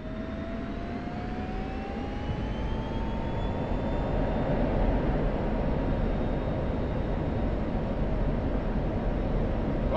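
An F-16C Viper jet taking off in the combat flight simulator DCS World over Nevada: a loud, continuous engine roar with a whine that rises steadily in pitch as thrust builds, heard alone with no voices.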